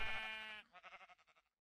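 A sheep in Minecraft, played in the FTB Revelation modpack, gives one loud bleat followed by a string of short, fading wavering pulses, alone and close up.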